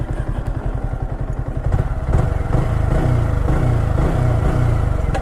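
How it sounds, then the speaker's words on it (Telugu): A second-hand Yamaha R15 motorcycle's engine runs nearby, a loud steady idle putter swelling into a few short revs and settling back, with no voices over it. "సౌండ్ కూడా చెవులకు వినసంపు ఉంది"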